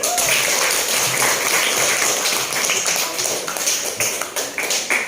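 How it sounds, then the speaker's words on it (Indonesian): Students in a classroom clap together in a loud, close, crisp burst of many hands, with a few sharper individual claps standing out toward the end. "Tepuk tangan."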